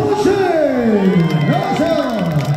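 A loud crowd at a sports day event for provincial city and county council members shouts together in unison, voices rising and falling in one sustained chant close by.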